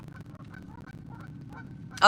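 Geese-like birds honk outdoors at a campsite in Tennessee, a brief loud honk arriving at the end after quieter chatter and low background rumble.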